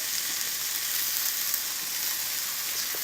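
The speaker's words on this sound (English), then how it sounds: "Nice hot cast iron pan is what I'd recommend using." A bacon wrapped meatloaf sears in a hot cast iron pan, giving a steady, close, loud sizzle with fine crackle and no talk.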